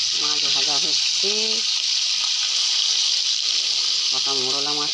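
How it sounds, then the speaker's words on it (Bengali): Small fish, mola among them, fry in a hot pan with a steady, bright sizzle throughout; a voice speaks briefly near the start and again at the end. "মাছ ভাজা হচ্ছে"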